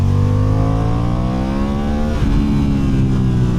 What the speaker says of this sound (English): a nice little growl out of there because this is a 270-degree crank parallel twin, and it's also fed into a fairly well-tuned exhaust system